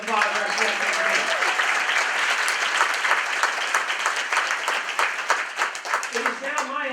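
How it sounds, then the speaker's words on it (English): An audience at a children's charity gathering applauds trustees and sponsors, with sustained, lively clapping throughout while a voice talks over it near the start and end. "Give them a round of applause."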